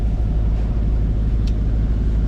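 A sailboat motors on its engine with the mainsail up for stability, a steady low droning hum under wind buffeting the microphone, close and continuous.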